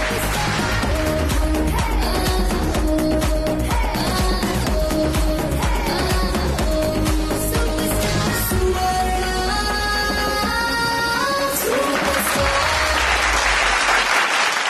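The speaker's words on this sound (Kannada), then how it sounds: "ಜೋರಾದ ಚಪ್ಪಾಳೆ." Loud, sustained applause fills a televised talent-show stage as a winner is crowned, mixed with bright, full music playing throughout.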